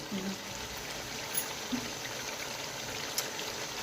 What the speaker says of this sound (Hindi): तो हम इसमें डालेंगे थोड़ा सा पानी।